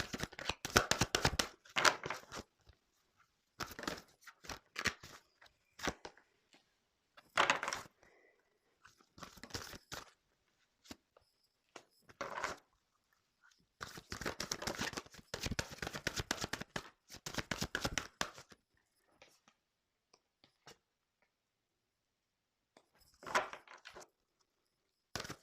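Cards shuffled and drawn for a tarot reading, bursts of close riffling, slapping and crinkling separated by quiet pauses, fairly soft, with no talk over them.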